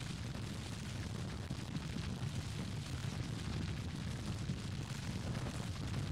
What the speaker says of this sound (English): artillery is continuing to fire